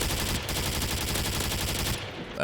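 An LMG in Modern Warfare fires a continuous rapid burst, loud and close, the dense rattle of shots running for about two seconds before cutting off.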